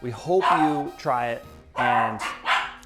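Dogs bark and yip repeatedly in short bursts while a person speaks over them, the barking fairly close and insistent.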